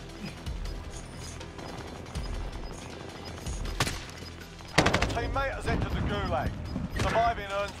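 Gunfire in Call of Duty Modern Warfare: scattered distant shots and mechanical clatter build to loud close bursts near the end, with voices talking over the battle.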